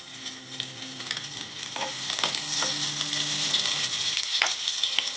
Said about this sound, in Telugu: కాస్త వేగాక ఇప్పుడు ఇందులో వెల్లుల్లి రెబ్బలు,